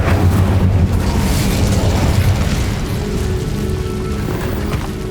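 A Bombarda explosive spell goes off in the video game Hogwarts Legacy: a loud, close blast with a broad rumbling burst that slowly settles into a lingering roar.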